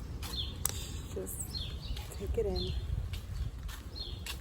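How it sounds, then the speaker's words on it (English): Birds chirp and sing in short bright calls outdoors while a person speaks softly over them. "Listen to the birds sing."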